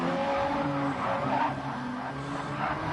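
Scirocco and BMW race cars battle side by side in a racing video game, engines droning steadily with tires squealing through a corner over about three seconds, continuous and fairly loud.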